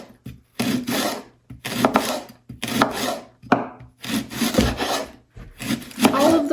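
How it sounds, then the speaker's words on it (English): Knife chopping leeks finely on a wooden cutting board, close rhythmic bursts of rasping cuts in repeated strokes separated by short pauses. "I'm just going to chop the white parts up here pretty finely"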